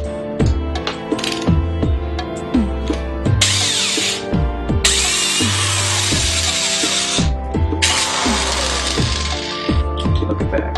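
A power drill enlarges a small hole so a bolt fits in a homemade bicycle handlebar camera mount. The motor whines in loud bursts with clattering and rattling as the bit works through, close up and with no voices.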